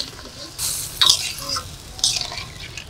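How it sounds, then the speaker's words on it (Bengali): Water poured into a pan of spicy Bengali bhola fish curry with mustard, a few splashy gushes and sizzling spurts at close range, short and uneven, with no talking. "এবার পরিমাণ মতো জল দিয়ে দেবো।"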